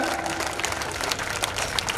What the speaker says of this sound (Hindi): have a good round of applause for the parents